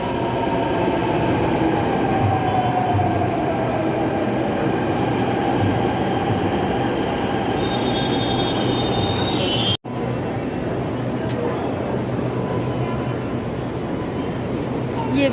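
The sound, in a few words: Delhi metro train running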